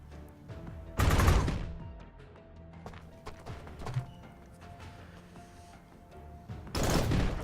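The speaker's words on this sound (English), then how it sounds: "we're taking some fire on the bridge" Gunfire in the Shock Tactics sci-fi tactics game at a bridge: two loud bursts of shots, one early and one at the end, with scattered sharper cracks and impacts between them over a low battle rumble.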